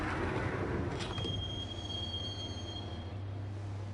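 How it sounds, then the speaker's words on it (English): Subway train riding through a tunnel in the video game Max Payne: steady low rumble of the cars with a long high wheel squeal that rises and fades, continuous and fairly loud, no voices. "the train doors had already shut behind me, and I was in for the ride"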